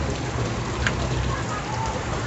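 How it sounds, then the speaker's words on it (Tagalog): Heavy rain pours down in a dense, continuous hiss that stays steady throughout, with no voices. "sobrang lakas pa ng ulan"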